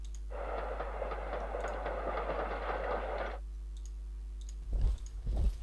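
Units move by rail in the Panzer Corps strategy game, with a steady rumbling, clicking rail noise that runs for about three seconds and then stops, followed by a couple of soft clicks.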